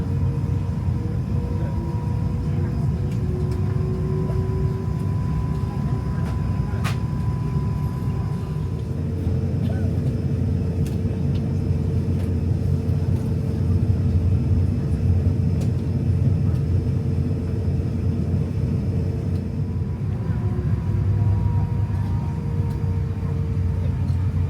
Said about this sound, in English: Let's watch our flight take off.